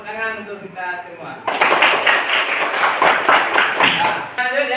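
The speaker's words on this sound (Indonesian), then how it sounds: "Tepuk tangan untuk kita semua." A classroom of pupils claps hands together for a few seconds, a loud, brisk burst of applause that cuts in after an adult voice speaks and fades as the voice returns.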